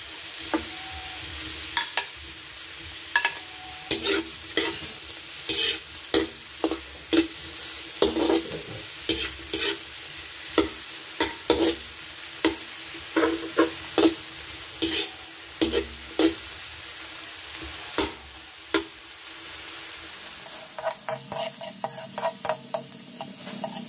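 Hotdogs frying in a pan with a steady sizzle, stirred repeatedly so that sharp scraping clacks come in an irregular rhythm close by, with the frying settling into a softer, lower tone near the end.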